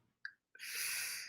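A single sneeze with a brief intake of breath before the sharp, airy burst, fairly quiet and close, with no talk.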